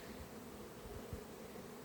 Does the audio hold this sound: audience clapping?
no